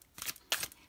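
A deck of tarot cards being shuffled: three short, crisp papery riffle bursts, close and fairly quiet, with brief pauses between them.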